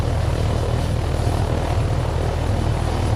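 A helicopter in Take On Helicopters drones with a loud, steady rotor and engine roar, a continuous low thrum that never lets up.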